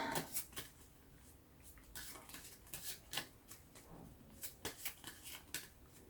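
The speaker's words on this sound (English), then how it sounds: "Okay, I'm shuffling." Prompt cards being shuffled at a casual game night, a run of quick papery riffles and flicks coming in short bursts, close and fairly quiet with no talking.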